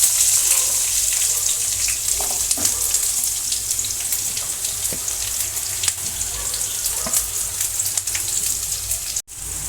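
Onions, green chillies and garam masala frying in oil over low flame for chicken curry, a dense continuous sizzle with occasional light ticks and pops, close and loud, with no talk.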